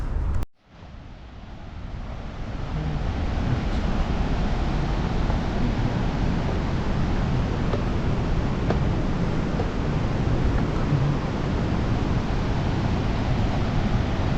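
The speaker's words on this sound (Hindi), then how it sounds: "बेसिकली यही है वो वाटरफॉल, खोन फोफेंग वाटरफॉल" Khone Phapheng waterfall on the Mekong in Laos roars as a steady, loud, broadband rush of falling water, continuous and unbroken after a brief dip at the start, with no voices over it.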